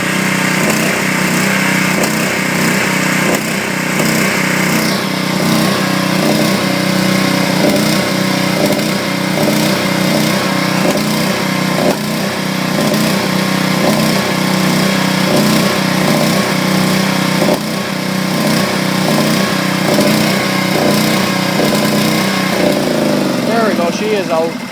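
Briggs and Stratton 8HP engine on a Powermate 3250 generator running steadily until it runs out of gas, a loud, close, buzzing drone that holds nearly unchanged throughout and begins to fade at the very end.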